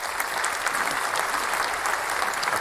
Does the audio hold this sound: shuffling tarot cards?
no